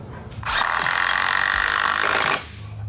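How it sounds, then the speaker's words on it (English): A power driver runs a fastener up into a top track, a loud, steady whirring burst of about two seconds that stops abruptly, with quieter room noise before and after. "pre-drilled that hole. Now I'll run this fastener up."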